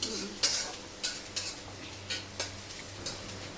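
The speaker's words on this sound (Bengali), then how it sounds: "আর পেঁয়াজ দেখেন কম তেলে ভাজা হচ্ছে।" Onions frying in a small amount of oil, a soft steady sizzle behind a series of light, regular scraping stirs from a utensil against the pan.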